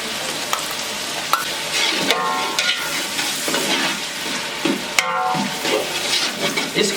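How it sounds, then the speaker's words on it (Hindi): Onions with ginger-garlic paste fry in a pot for a degi-style chicken korma, giving a steady loud sizzle broken by a few scraping stirs, with no voices. "प्याज, 4 खाने के चम्मच अदरक और लहसुन का पेस्ट हम इसमें शामिल करेंगे।"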